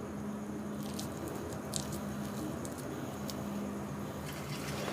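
Cabbage pakoda batter frying in hot oil gives a steady, soft sizzle with scattered crackles and pops, close by and fairly quiet, with no talking.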